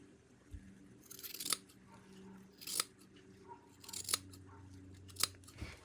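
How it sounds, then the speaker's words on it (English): Scissors snip through fabric along the stitching of a thrifted scarf, a series of four or five crisp close cuts spaced about a second apart over quiet room tone. "all I'm doing is cutting down the center of that stitching."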